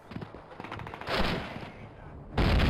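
Bomb blasts and gunfire in the Call of Duty 1 video game: scattered shots, then a loud broad burst near the middle and another heavy blast at the end, all close and booming.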